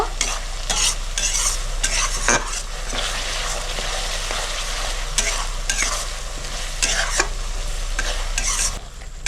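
Ginger, garlic and chili paste frying in a pan for chicken kosha, a steady close sizzle with intermittent scraping and stirring strokes, no voices.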